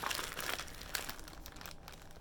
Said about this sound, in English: So I'm going to open the bag.